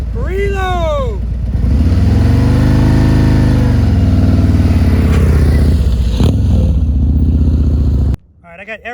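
A motorcycle engine runs loud and close during slow-speed left turn practice from a stop, a steady low rumble that rises and falls with throttle before cutting off near the end, and a rider speaks over it.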